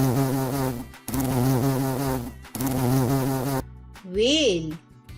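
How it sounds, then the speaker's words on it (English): A bee's buzz rendered as a loud, close, wavering drone, a few seconds long with brief breaks, ending in a higher whining swell; no talking over it. "Bee sound is buzz."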